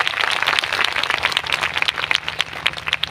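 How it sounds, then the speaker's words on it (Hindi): A congregation at a three-day prayer meeting claps hands in a dense, steady round of applause, many palms striking close and moderately loud throughout. "ताली बजा के हम प्रभु को धन्यवाद करेंगे."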